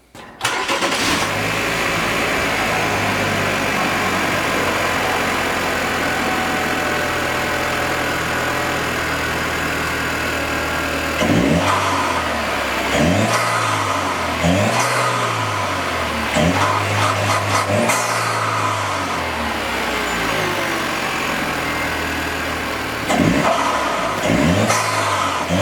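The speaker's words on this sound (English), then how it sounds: "why don't we go ahead and give it some revs" A Chevy Cruze engine with a ZZPerformance cold air intake cranks and catches, idles with a loud steady rumble, then revs up repeatedly in rising and falling surges.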